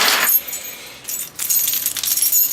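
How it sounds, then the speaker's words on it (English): Everyday keys on a real climbing carabiner wrapped with a little paracord jangle and clink close by, in a few bright metallic bursts with brief pauses between them. "They're my regular keys, real climbing carabiner with a little bit of paracord wrapped on the side"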